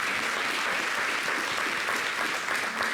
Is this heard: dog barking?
no